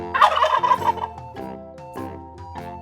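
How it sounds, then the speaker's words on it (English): A turkey gobbles close up in a rapid, warbling burst, followed by a few shorter gobbles over a soft musical backing. "Awesome! It's the turkey."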